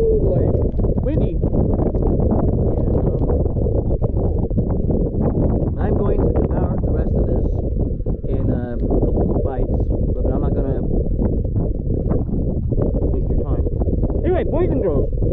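Strong, steady wind buffets the microphone throughout, a constant low roar with someone talking over it.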